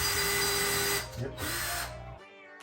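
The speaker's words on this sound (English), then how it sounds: "So they just drill in there" A power drill whirs in two short bursts, close and loud, then spins down and stops.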